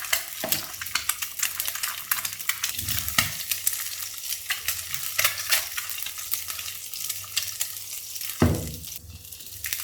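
An egg and spring onion fry in well-heated oil for Korean-style fried rice, a steady close crackling sizzle with occasional stirring scrapes and a louder burst of spitting near the end.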